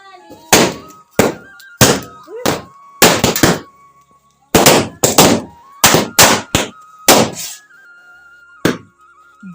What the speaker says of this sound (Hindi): ये वाला पटाखा फोड़ूंगा मैं, देखो